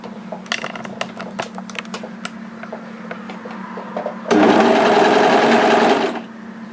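Brother 1034D four-thread serger overlocker: scattered light clicks and taps from handling the machine, then a loud, close burst of fast mechanical whirring as it runs for about two seconds before winding down.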